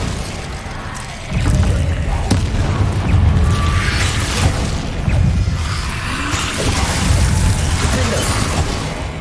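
Spell blasts from Hogwarts Legacy gameplay, fire, Bombarda and Confringo curses, erupt as loud booming explosions and crackling bursts in quick succession, dense and continuous over a rumbling low end.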